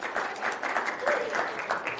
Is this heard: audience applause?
yes